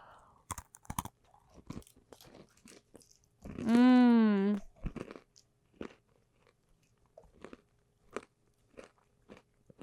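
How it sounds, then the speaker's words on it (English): Crunchy snack chewed close to the mic, a run of sharp irregular crunches spread across the clip, with one brief voiced sound in the middle. "Can you hear me crunching?"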